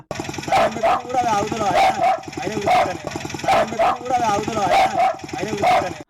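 A loudspeaker on an auto-rickshaw plays a looped recording of dogs barking, repeating rhythmic bursts of barks over and over, loud and close with a harsh engine-like buzz underneath.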